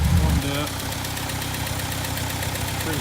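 A 1964 International Scout 80 engine idles steadily off choke, a low continuous rumble with faint knocking pulses running alone for the whole stretch after a brief louder thump at the start.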